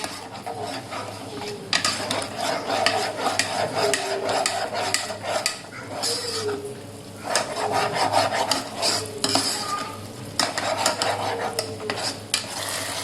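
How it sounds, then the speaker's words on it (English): Chilli prawn gravy gets stirred continuously in a pan, rhythmic scraping and sloshing strokes close by over a soft simmering sizzle, with no one speaking. "अब कंटिन्यूसली आप इसको चलाते रहें"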